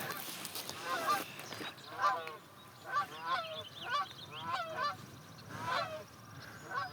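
Large birds fly low over a hillside meadow, giving a run of loud honking calls that come in repeated bursts, some close and some overlapping, against a quiet outdoor background.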